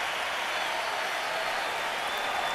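Arena crowd at the 2009 Floyd Mayweather Jr. vs Juan Manuel Marquez boxing match roars and applauds late in round 6, a dense, continuous wash of clapping and cheering holding at steady loudness throughout.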